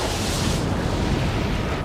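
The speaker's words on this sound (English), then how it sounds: "Target that explosion and fire." A dense, continuous roar of an explosion and fire, loud and close, with no gaps or distinct pops.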